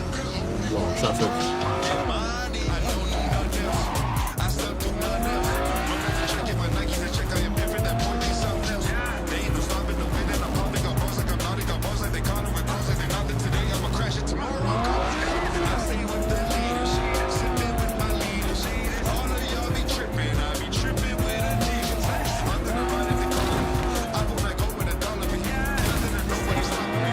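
Cyberpunk 2077 vehicle driven through city traffic, engine droning steadily with recurring tire squeals and skids, loud and continuous, with a voice talking over it.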